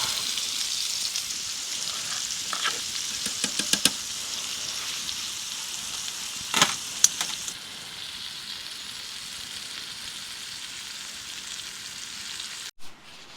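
Meat seasoned with garlic powder and onion powder frying in a pan in a hot tent on a Montana river; a soft, steady sizzle with scattered crackles and pops, fading quieter partway through.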